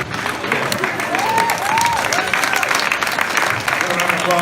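An audience at a college-campus debate applauds its panelists, with loud, sustained clapping and voices from the crowd rising over it throughout.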